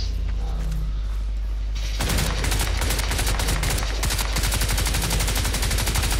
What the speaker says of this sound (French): Ouais, je tire, hein.